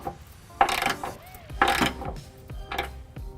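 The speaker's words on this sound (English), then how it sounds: "I'm just going to take all of the hardware that I installed by hand and snug it up" A ratchet with a 3/4 inch socket snugs trailer hitch bolts on a 2003 Chevrolet Impala, giving three bursts of rapid clicking pawl ratcheting, close and clear with short pauses between.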